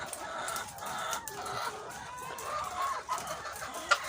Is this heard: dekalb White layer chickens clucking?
yes